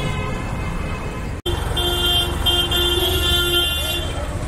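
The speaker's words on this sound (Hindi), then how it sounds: "खतरनाक ट्रैफिक।" Heavy road traffic rumbles steadily and loud, with car horns tooting repeatedly through the din and a brief cutout partway through.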